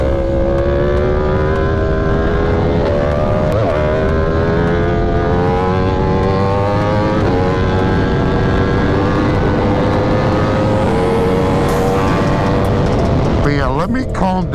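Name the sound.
Yamaha R1M motorcycle with Austin Racing titanium exhaust riding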